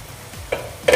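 Sprouted moth beans (matki) stirred in a pan, a brief close sizzle with two quick scraping strokes, no talking.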